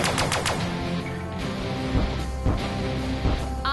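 Pulse weapon fire in the Sunrider space-battle game, a dense, loud, continuous barrage of synthetic energy shots and booms with no talking.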